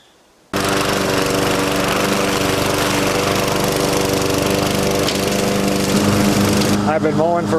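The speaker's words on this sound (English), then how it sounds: "I think I'm going to get mowing right now, even if it's still a little bit damp." A lawn mower cutting still-damp grass starts abruptly after a brief silence, then holds a loud, steady engine drone close by.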